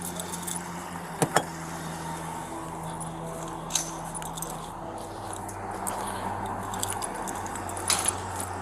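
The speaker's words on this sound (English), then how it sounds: "Hey, Drake, I need the keys!" A metal key ring jangles during a police response at a residence, with a few sharp, close clinks standing out over steady background noise and no clear talk.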